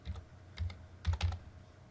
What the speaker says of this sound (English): and type some text